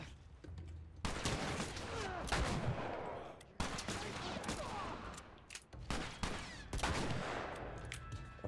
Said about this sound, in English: this gun has some kick to it